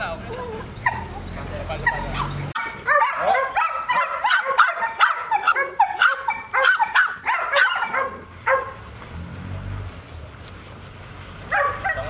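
Togo, a protection-trained K9, yips, barks and whimpers in rapid, excited bursts close by, with a short pause before the barking resumes, while people talk around it.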